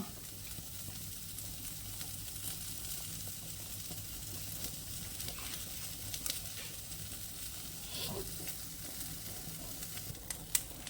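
Dried red chillies sautéing in a pan for pirandai chutney give a steady, soft sizzle and crackle throughout, with a few faint clicks of the spoon stirring.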